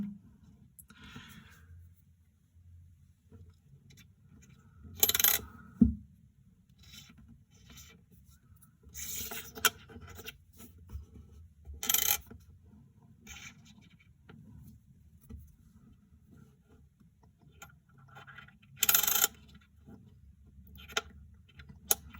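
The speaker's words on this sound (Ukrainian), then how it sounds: "Так само ми можемо з реверса на аверс здійснити поворот." A 1992 Ukrainian 10-kopiyok coin is handled and turned over, giving faint scraping and rubbing rasps in a few short, separated bursts against near silence. No one speaks.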